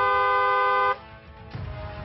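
Car horn sounding one loud, sustained honk of about a second, close and harsh, then cut off with a brief rumble of traffic behind it.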